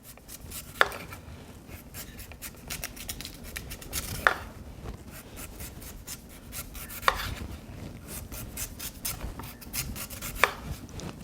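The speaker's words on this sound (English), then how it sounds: "we're gonna peel this sweet potato and we're gonna grate it" Sweet potato being peeled and scraped by hand, soft rasping strokes in an uneven rhythm punctuated by a few sharp knocks of the tool against the board, quiet and close with no talking.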